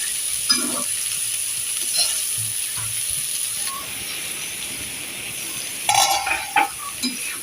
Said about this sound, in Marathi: परतून घ्या पूर्ण आणि मग झाकण ठेवून 5 मिनिटं शिजू द्या